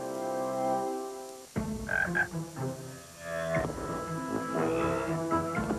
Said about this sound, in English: Let's click on the little frog.